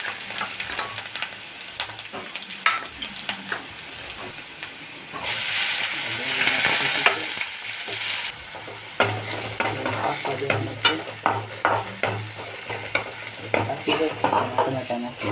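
Onion, tomato and garlic fry in a pan while being stirred for a vegetable bhaji. A loud, close sizzle flares sharply midway, then settles into a hissing fry broken by repeated spatula scrapes.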